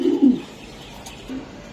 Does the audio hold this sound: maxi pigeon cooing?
yes